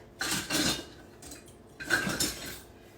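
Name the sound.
whisking batter with dried cranberries in a bowl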